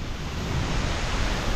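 Strong wind gusts buffet the microphone over the rushing hiss of a large waterfall cascading down a valley at Cautley Spout in the Yorkshire Dales, a dense continuous roar with no speech.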